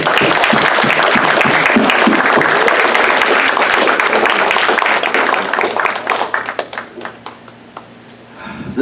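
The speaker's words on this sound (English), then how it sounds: "Just give him a round of applause." An audience at a high school town hall on pesticide reform gives a long round of loud clapping and cheering, and the applause thins out into scattered claps before fading.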